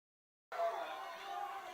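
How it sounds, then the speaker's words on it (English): Crowd noise at a high school football game with the Viborg-Hurley Cougars: a steady wash of cheering and chatter starts abruptly after a brief silence and stays loud and dense throughout. "All right, crowd's getting into it, folks."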